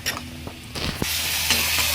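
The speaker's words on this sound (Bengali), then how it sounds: "দেখো বেশ ভালো করে পেঁয়াজটা ভাজা হয়ে গেছে। এবার মশলাটা দিয়ে দিচ্ছি।" A paste of green chilli, ginger, garlic and cumin hitting fried onion in a hot pan, sizzling up and being stirred with a few quick scrapes, the hiss swelling louder toward the end.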